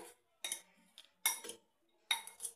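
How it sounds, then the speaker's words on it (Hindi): Salad being tossed with salt and chaat masala powder, giving three separate bursts of clinking, scraping utensil sounds against a bowl with short quiet gaps between them, close and fairly soft, with no talking. "अब इन सब चीज़ों को अच्छे से मिक्स कर देते हैं"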